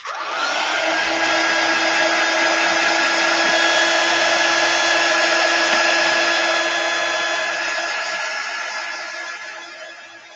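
A handheld heat tool blows continuously at close range to dry paste on a craft sign, a loud steady whirring hiss with a constant whine that eases off slightly toward the end.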